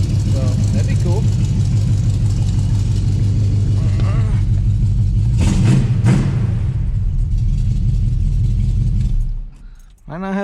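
A Chevrolet Nova engine running after transmission work, idling with a steady low rumble and a brief rev midway before it drops off near the end, while someone talks over it.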